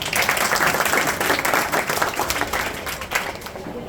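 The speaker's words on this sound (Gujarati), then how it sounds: "ફરી એકવાર જોરદાર તાળીઓ થઈ જાય આ કૃતિ માટે" Audience applause at a school annual day function, a dense steady clapping from a large crowd that fills the hall throughout and tapers slightly at the end.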